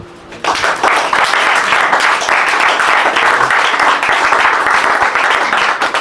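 A church congregation applauds loudly and steadily after a call to acclaim the Lord, dense clapping starting abruptly and holding at full strength throughout.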